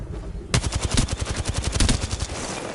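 Rapid bursts of automatic gunfire from weapons in the battle royale video game Apex Legends, loud and close, a fast regular stream of shots after a brief quiet start.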